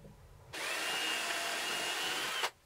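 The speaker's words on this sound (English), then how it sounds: "Pre-drill our shell. We don't want to crack that." A power drill whirs steadily for about two seconds at close range while pre-drilling a hole, starting and stopping abruptly, with no talking.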